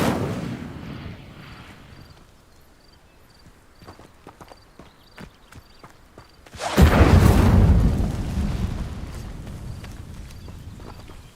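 In Hogwarts Legacy, an Incendio fire spell is cast at dry vines. Faint clicks and taps give way to a sudden loud, roaring whoosh of flame that swells and then slowly fades.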